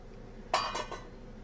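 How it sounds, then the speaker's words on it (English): A metal lid set down on a pot of simmering seafood gives a short bright clink followed by two quick rattling taps as it settles, close and alone. "now we're gonna put the top on that so we can do what it's gotta do"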